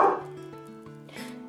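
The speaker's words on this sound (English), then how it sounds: "Excuse my dog, he's yelling at some jogger out there." A dog barks loudly and close at a jogger outside, one sharp bark followed by a trailing whining, yelping tone over quiet indoor kitchen sounds.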